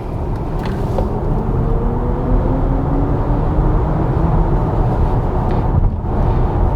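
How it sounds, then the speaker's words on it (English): A 2022 BMW iX3 electric SUV accelerating in Sport mode emits a synthetic spaceship-like hum, rising tones gliding over a loud steady road rumble inside the cabin, continuous throughout. "in Sporty Mode, you press on the throttle and this car has a bit of a spaceship UFO sound to it"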